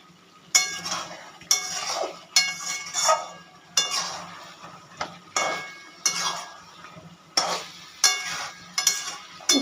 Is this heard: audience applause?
no